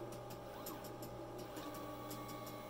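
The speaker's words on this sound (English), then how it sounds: "Robot's going to go over, pick the sheet up." Dexter robot arm moving over to pick up a face shield visor sheet in an automated production setup, heard as a faint, steady mechanical hum with soft whirring servo sweeps and light clicks.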